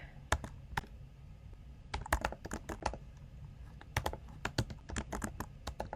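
Irregular bursts of clicking keystrokes on a computer keyboard, close and crisp, in short clustered runs separated by pauses, with no voices.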